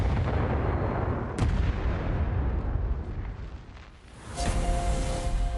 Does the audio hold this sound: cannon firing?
yes